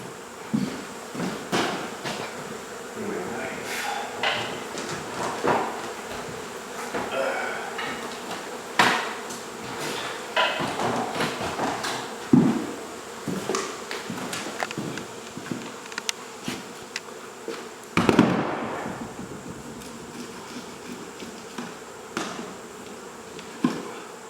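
Honey bees buzz continuously around an indoor hive removal, a dense insect drone broken by frequent sharp knocks and taps from the work on the hive structure, with no talk.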